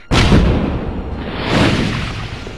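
A detonator-triggered explosion in a Tomb Raider III (1998) cutscene booms loud and close, starting abruptly and rumbling on through a second swell before slowly fading.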